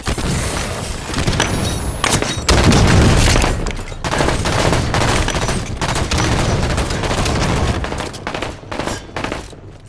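A grenade explodes amid rapid gunfire in a Halo 5: Guardians multiplayer Oddball match, with a deep boom followed by dense, loud bursts of automatic fire and shots lasting the whole stretch.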